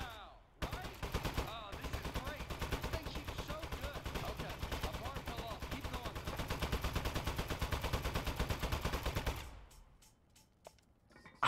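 A minigun in Aperture Desk Job fires a long, rapid, continuous burst for about nine seconds, loud and steady, then cuts off into a few scattered clicks.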